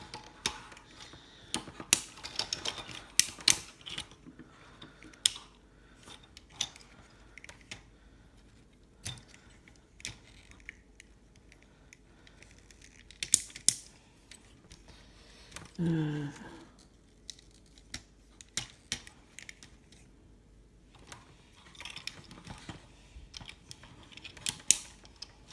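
Ratchet joints on a Transformers Combiner Wars Victorion toy clicking as the limbs are posed, many small irregular ticks and clacks nearby, with a brief voice in the middle.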